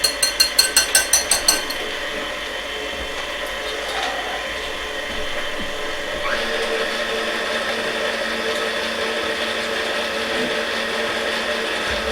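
A kitchen blender mixes brioche batter with a loud, steady motor whir that shifts pitch midway, after a quick series of clinking taps at the start. There is no talking.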